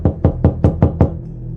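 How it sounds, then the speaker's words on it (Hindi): Six sharp knocks on a morgue door at night, evenly spaced in a quick rhythm, loud and close, followed by a faint low hum once the knocking stops. "किसी ने मुर्दा घर का दरवाज़ा खटखटाया"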